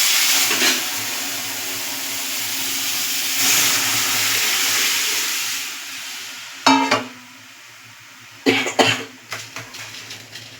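Dal poured into a pan of fried ginger and radhuni spices, setting off a broad, steady sizzle that fades to a quieter bubbling, with a few sharp clatters of a spoon or pan near the end.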